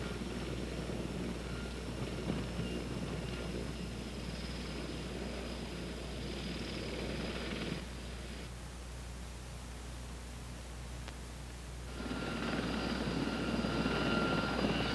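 A CH-54 heavy-lift helicopter's engine and rotor give a steady, loud, distant roar while it lands over a load. The roar dips partway through, then swells again, and no one speaks.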